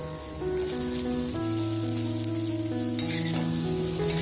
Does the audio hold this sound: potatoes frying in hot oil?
yes